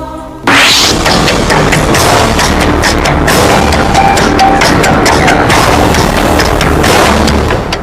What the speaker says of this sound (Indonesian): Ledakan besar ini berasal dari sebuah truk bermuatan bahan peledak yang terguling